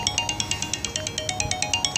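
A phone rings with a repeating electronic ringtone, a steady run of short bright pulses about eight per second, fairly close and alone with no talk over it.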